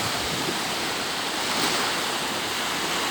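Sea waves at San Felice beach wash steadily in a broad, constant hiss of surf, with wind noise mixed in and no voices.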